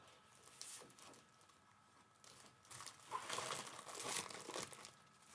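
Green craft paper is crinkled and handled up close for a card-making project, a faint, intermittent rustle and crumple that swells near the end.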